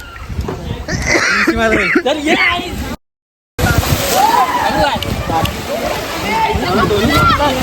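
Water splashes as people jump in, amid loud, continuous shouting and chatter from a nearby crowd.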